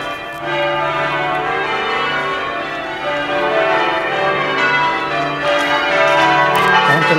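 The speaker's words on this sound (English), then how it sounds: "I want to listen to these bells." Ossett church bells ring continuously with a dense, layered tone, the back ten bells overlapping in a steady, loud peal with no voices.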